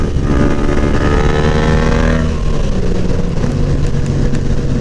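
Motorcycle engine close by, revving with a rising whine that drops off after a couple of seconds and then settles into a steady loud rumble as the bike rides on; no talking.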